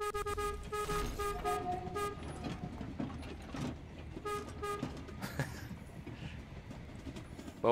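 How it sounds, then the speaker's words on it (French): A train horn in the Voidtrain video game toots repeatedly in short steady blasts during the first half, then again briefly midway, over rumbling, clattering in-game ambience. "j'ai fait du klaxon impeccable"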